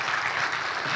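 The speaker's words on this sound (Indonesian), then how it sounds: "Boleh minta tepuk tangannya Bapak sekalian?" A brief burst of applause from an audience of men at a digital literacy workshop, a dense, even patter of clapping lasting about a second.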